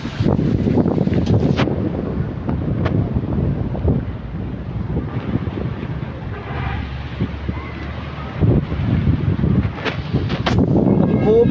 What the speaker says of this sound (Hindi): इतनी तेज हवा, इतनी तेज हवा, तेज हवा।